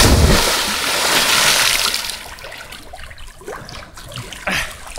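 Splashing water from someone jumping into a deep natural swimming spot, a loud rush of spray at the start fading into trickling and lapping water with faint voices.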